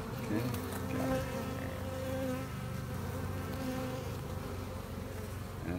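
Honeybees from nucleus colonies buzz steadily and close during a May hive transfer, a dense continuous drone with a few louder passes of individual bees, no talking.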